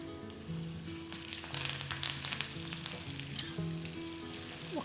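Ginger, crushed pepper, cumin, curry leaves and asafoetida sizzle in hot tempering oil, a steady crackling fry with brief spiky pops and stirring, fairly faint and close, with no voices.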